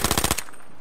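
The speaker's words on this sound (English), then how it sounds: "I'm shooting up his quad, but I'm not hurting him at all." Rapid automatic gunfire from the video game H1Z1 hammers out about six loud shots in quick rhythm, then cuts off abruptly, leaving a faint ringing tail.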